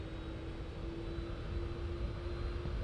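Aircraft engine noise hums as a steady low drone with a constant whine above it, even and moderately faint throughout with no talk over it.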